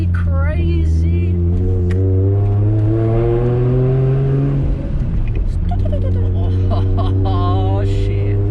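A Nissan Skyline R33 with a forged RB25DET engine and no front bumper accelerates hard on a test drive, the engine note climbing loudly through a gear, dipping briefly at the shift, then rising again close by.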